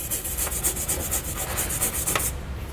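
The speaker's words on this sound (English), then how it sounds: "come back with a nylon brush and make sure there's no dirt, debris, or rust inside so our bolts won't cross thread" A nylon brush scrubs dirt and rust out of a threaded hole in the frame of a 2013 Nissan Rogue, a steady close rasping rub with a quick rhythmic scratch that stops before the end.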